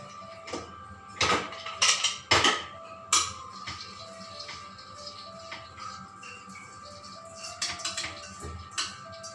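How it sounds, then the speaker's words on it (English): Green gram being dumped into a pressure cooker, with a few sharp rattling clatters of dry beans hitting metal in quick bursts, then quieter scraping and small knocks at close range. "So this I am dumping into the cooker."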